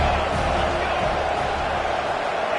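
Stadium crowd at an American football game roaring to rally the defense near the red zone, a broad sustained wash of noise from thousands of fans, steady and loud throughout.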